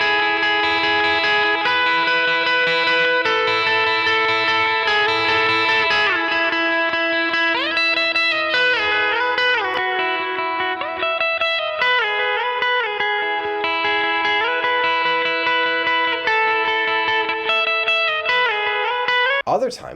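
A distorted electric guitar, a Squier Stratocaster, plays sustained, effect-laden notes and bends continuously through a distortion pedal, thick and saturated with chorus-like shimmer and reverb.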